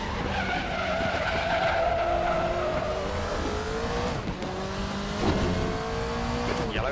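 Group C race car in RaceRoom at the Nordschleife, engine droning steadily at high throttle with harmonic pitch sweeps as gears change and tires skid, continuous and loud with no voices.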